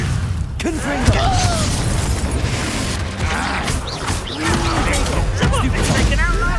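Confringo fire spell explosions in Hogwarts Legacy, booming blasts and crashing combat effects over busy game music and dialogue, loud and close throughout.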